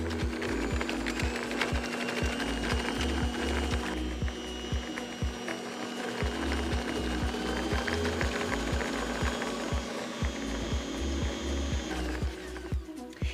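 An Ankarsrum stand mixer creaming butter and sugar, with a steady mechanical motor drone and a regular rhythmic knocking of the beater in the bowl, loud and close, running alone without talk.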